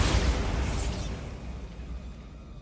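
Bombarda blasting spell going off in Hogwarts Legacy, a loud close burst that booms at the start and then trails into a rumbling decay.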